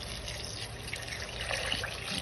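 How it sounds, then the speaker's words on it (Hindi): Water, about a kilogram, is poured into a cooking pot of mashed raw mango for a sherbet, with a faint, brief, steady trickling splash. "इसमें 1 किलो पानी डाल दें"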